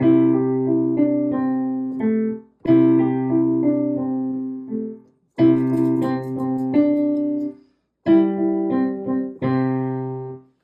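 A short melody played on piano in four phrases separated by brief pauses, clear and close, with notes ringing out and no voices.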